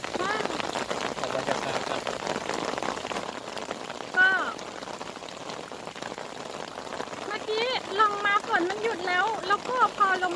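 Steady rain falls throughout while fishing, with someone talking over it and brief chirping or vocal sounds in between.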